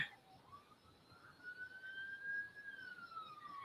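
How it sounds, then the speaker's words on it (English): Police car or ambulance siren passing on a nearby highway, one long faint wailing tone rising and slowly falling, heard distantly over quiet traffic-like background. "Do you have an ambulance driving past or a police car?"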